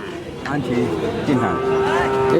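A cow moos in long, drawn-out calls at the busy Gafargaon cattle market ahead of Qurbani, with several overlapping bellows rising over general crowd noise.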